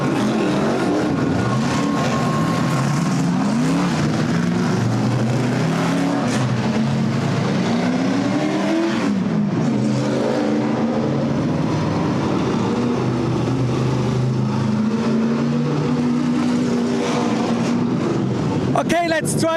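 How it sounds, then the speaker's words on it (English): NASCAR V8 race car engines roar past during a qualifying session at a UK Grand Prix, with loud rising and falling engine passes under someone talking throughout. "I cannot do any interviews when those engines are roaring."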